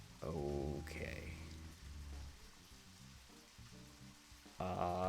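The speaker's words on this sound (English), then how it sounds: "It's raining." Rain in the horror game Deadly Premonition, a steady hiss of falling water running beneath tonal game music and a few voices.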